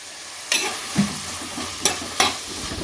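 Onions are stirred and sautéed in a pan while cooking a fish curry, with a constant frying sizzle broken by four distinct scraping stirs of a spoon against the pan.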